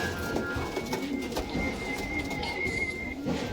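Pigeons kept for racing coo softly and steadily nearby, a low rolling murmur with a faint whistle-like tone running through it and occasional light flutters, with no talking.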